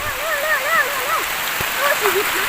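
Rain falls steadily outdoors during red ant egg gathering, a constant close hiss running through the whole stretch while people talk and call out over it.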